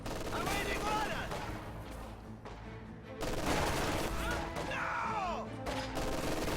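Soviet troops fire on squads in a strategy video game, with a near-continuous mix of rifle and machine-gun bursts and crashes under a droning battle backdrop, plus a short swelling burst around the middle.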